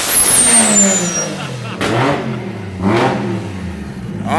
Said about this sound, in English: Let me hear that blow up valve.